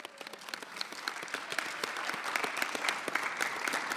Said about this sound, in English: can we give Chris Patnoe a big round of applause?